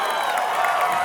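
Audience applause and cheering after a fursuit tap dancing routine at a convention dance competition, a dense, steady wash of crowd noise filling the hall with no pauses.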